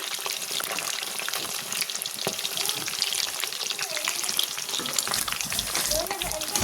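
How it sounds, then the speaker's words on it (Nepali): Fish fries in a pan with a dense, loud and close sizzle that crackles evenly throughout, with no talk. "यहाँ माछा रातो भइसकेको छ। मजाले फ्राई भएको छ।"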